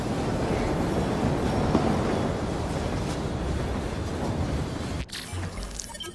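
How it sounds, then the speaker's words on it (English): Train ride in Assassin's Creed Syndicate: a steady, loud rumble of rolling rail cars with faint clatter fills the clip, breaking off abruptly near the end into a quieter, different scene. "We upgraded to a train."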